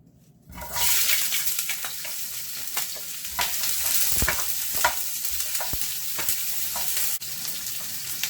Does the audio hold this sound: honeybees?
no